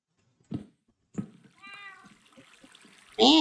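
A cat meowing, a few short separate calls, close and fairly clear, with a louder, longer meow at the end, amid quiet background sounds.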